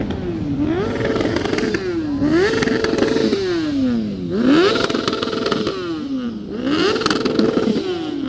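Motorcycle engine revving repeatedly at a busy bike night at the Superbike Factory in Donington, four rising and falling throttle blips with a rough clattering exhaust, loud and near amid crowd background.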